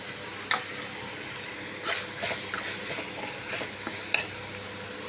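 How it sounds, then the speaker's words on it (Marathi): Paste of grated coconut, garlic, ginger and onion frying with spices in a pan for a bitter gourd curry, giving a soft, steady sizzle with a few light stirring clacks, fairly quiet. "आपला मसाला मस्त फ्राय झाला।"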